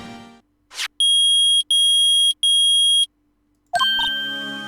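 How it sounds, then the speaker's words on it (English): In the Phoenix Wright: Ace Attorney Trilogy video game, a metal detector beeps three long, loud, steady electronic tones in a row. A swishing effect comes before them and a chiming game jingle follows. "Yeah, it's beeping. The metal detector's found something."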